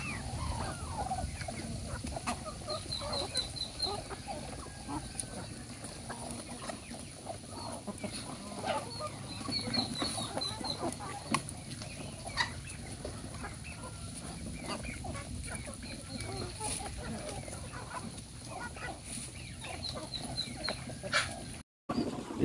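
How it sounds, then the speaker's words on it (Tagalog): Chickens cluck and murmur on a farm where Muscovy ducks are also kept, a steady, continuous flock chatter at moderate distance with no talking. "Manok na yan."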